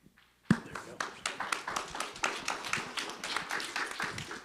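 Applause from an audience at a legislative coffee breaks out suddenly after a quiet moment, with many hands clapping in an uneven, moderately close patter that carries on steadily for several seconds.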